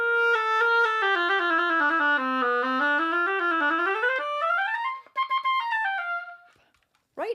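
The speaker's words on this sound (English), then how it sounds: "I put it on the oboe and it sounds like this." An oboe fitted with a handmade reed plays a sustained, rich melodic line with gliding pitch, close and solo, then shorter tapering notes and a brief fade to near silence.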